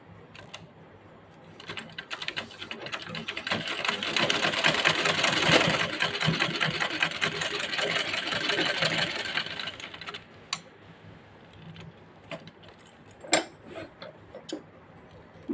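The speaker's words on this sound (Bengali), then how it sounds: "এখন এই জায়গাটায় একটা সেলাই দিয়ে দিতে হবে।" A sewing machine stitches a seam on a child's pants. Its fast, whirring run builds and holds for several seconds, then stops, leaving a few scattered ticks and clicks.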